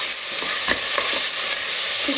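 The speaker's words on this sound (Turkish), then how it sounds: "Etlerin kavrulmasını bekliyoruz." Steady, loud sizzling of meat and onions frying in a pan, with occasional stirring scrapes and no voices.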